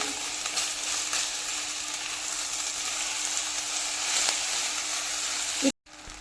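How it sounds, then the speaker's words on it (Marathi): Hot cooked rice and jaggery are stirred in a pan with a constant sizzling hiss. Faint scraping runs under it, and it ends with a brief clatter. "आता लगेचच यामध्ये आपण घालून घेऊया तांदूळ जो आपण राईस शिजवून घेतला आहे तो तोही गरम आहे आणि छान असा मिक्स करून घेऊया"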